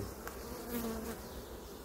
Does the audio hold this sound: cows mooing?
no